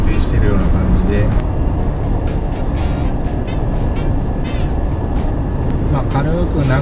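A Suzuki Jimny JB64W XC cruises on an expressway at about 3000 rpm and 75–80 km/h, its steady engine drone and road roar continuous beneath someone talking throughout.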